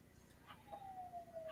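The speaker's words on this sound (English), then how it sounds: "I hear sirens." A distant emergency vehicle siren near a firehouse rises as a faint wavering tone over low background noise, heard briefly and far off.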